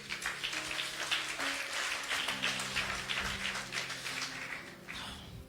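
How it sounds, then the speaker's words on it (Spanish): A church congregation applauds during a Good Friday service on the seven last words of Jesus, a soft, steady patter of many hands clapping at a distance with a low sustained tone beneath. "Denle un fuerte aplauso a Dios."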